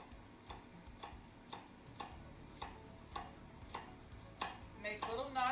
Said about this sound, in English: I'm going to start cutting my onion